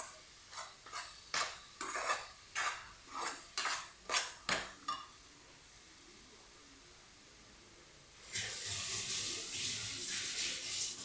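A ladle stirs coconut filling for holige in a metal pan, giving about ten evenly spaced, fairly close clinks and scrapes. A short lull follows, then a steady broad hiss rises and carries to the end. No one speaks.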